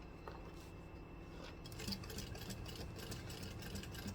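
A walking-foot sewing machine stitching through leather and cowhide hums with a low motor drone that rises midway into a rapid, steady mechanical chatter, quiet and close with no talking.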